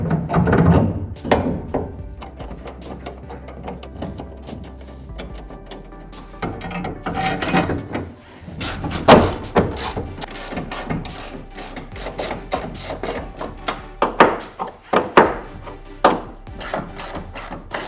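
An old rubber bushing being pressed out of a Porsche mount in a workshop, with ratcheting clicks, metallic creaks and knocks, then a burst of loud clanks and thunks as the press works, close and uneven.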